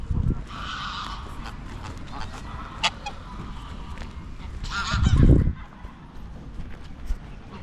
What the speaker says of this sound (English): Good looking goose.